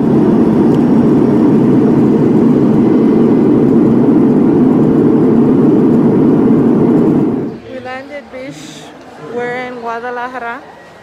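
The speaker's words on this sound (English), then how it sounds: "I'm on the plane." Loud steady airplane cabin engine roar, a dense low drone filling the first seven seconds before it drops away and voices take over.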